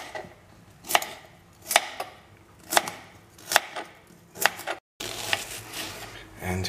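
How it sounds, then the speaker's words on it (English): Knife chopping a carrot on a cutting board, six sharp evenly spaced thuds about one per second, close and clear, followed by a brief pause and softer board noise. "And I now continue cutting the carrot."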